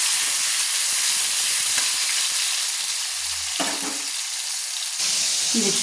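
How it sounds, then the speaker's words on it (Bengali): Chopped tomatoes frying and being stirred in a pan for chicken curry, a loud continuous sizzle and hiss with a few scraping stirs, close up, no voices. "দুটো টমেটো, কেটে রাখা টমেটো আমি দিয়ে ভালো করে নেড়ে নিচ্ছি।"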